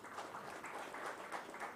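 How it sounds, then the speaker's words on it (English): Audience at a maritime regional summit clapping for a panelist, a faint, steady patter of many hands from a distance with no voices over it. "And a big round of applause for Shri Sagar Karu ji."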